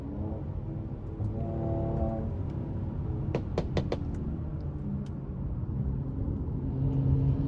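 A 2019 Mercedes C43 AMG with a 390 hp engine drives along, a steady low cabin rumble under the tyres with brief knocking taps midway and the engine swelling slightly toward the end.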